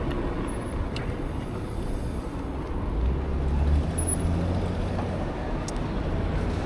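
An OCTA transit bus rolls by on a city street with a low, steady engine rumble amid continuous traffic noise, loudest mid-clip as it passes, with faint high hissy air-brake-like tones.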